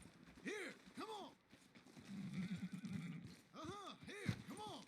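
A horse in a video game neighs and whinnies several times in short arched bursts, with muffled hoof clip-clop and game background noise between the calls.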